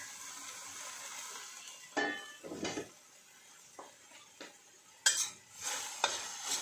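Tomatoes sauté in a pan, with a soft background sizzle broken by several scraping stirs of a utensil against the pan, close and fairly quiet.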